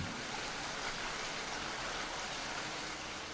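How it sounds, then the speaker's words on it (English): Soft, steady hiss of gentle rain, even and continuous with no breaks or other sounds. "or to gentle rain"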